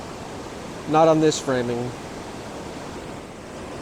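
Rushing water at the Baptism River waterfalls at Tettegouche, a constant broad hiss and roar heard steadily in the background while a person speaks briefly over it.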